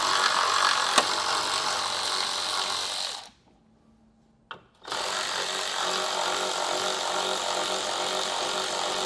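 A power tool removes 10mm grille screws on a 2020 Chevrolet Silverado, with a loud, continuous whirring drive that stops for about a second, then starts again and runs steadily, heard up close.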